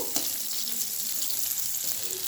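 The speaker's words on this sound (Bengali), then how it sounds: "পেঁয়াজগুলোকে হালকা একটু ভেজে নেবো একদম লাল লাল করবো না" Chopped onions fry lightly in a pan for a ridge gourd bharta, giving a steady, close sizzling hiss that continues evenly throughout with no talking.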